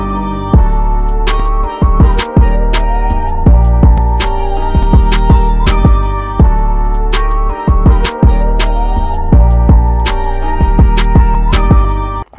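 Psychedelic hip hop beat made in FL Studio with stereo-widened frequencies, with punchy kicks and snares under a repeating melodic loop, steady and loud for about twelve seconds with no talking.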